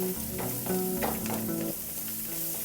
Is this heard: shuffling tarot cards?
no